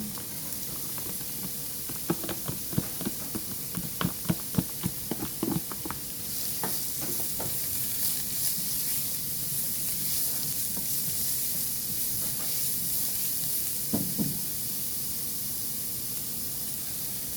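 Garlic frying in a pan for pancit canton gives a steady close sizzle, with crackling bursts and stirring scrapes early on and another burst near the end, and no voices.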